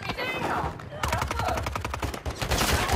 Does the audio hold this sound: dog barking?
no